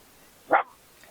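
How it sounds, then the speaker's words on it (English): A small dog gives a single short, sharp bark, moderately loud and fairly close, alone against a quiet room. "we have another little doggy that's just joining us"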